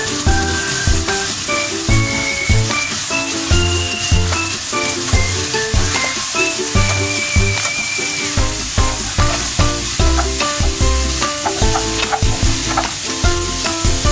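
Chicken wings frying in a pan for Chinese home cooking, a loud, steady sizzle and crackle running continuously up close, with occasional stirring clatter and bright tonal sounds layered over the hiss.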